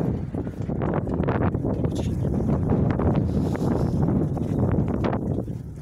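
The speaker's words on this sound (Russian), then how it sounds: "Ветер, наверное, вам ничего не слышно." Strong wind buffets the microphone on a sunny rooftop, producing continuous loud low rumbling gusts throughout with no clear talk.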